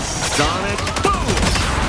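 Hawkeye's Sonic Boom ability in Marvel Rivals, a rapid volley of sharp energy shots with whooshing sweeps, dense and close amid chaotic game combat.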